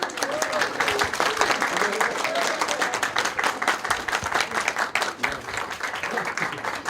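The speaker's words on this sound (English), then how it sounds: "Let's give another round of applause to Shan and also to Joey." Wedding guests at a barn venue clap in a sustained round that carries on evenly for several seconds, with people talking through it.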